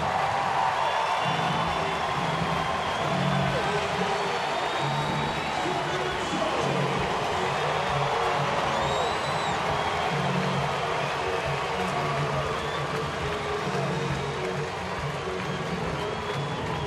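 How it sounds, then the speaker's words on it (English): Baseball stadium crowd at a 2012 Phillies–Braves game in Atlanta cheering for Chipper Jones as he comes to bat, a broad steady roar filling the whole clip, with a broadcaster talking over it. "Listen to the cheer for him."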